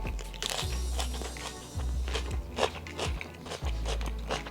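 Someone bites and chews a crunchy lettuce wrap, giving repeated crisp crunches and crackles up close against a low background hum.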